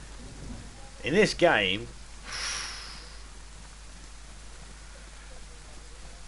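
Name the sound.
rain in the video game DayZ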